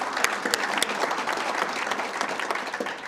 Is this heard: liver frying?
no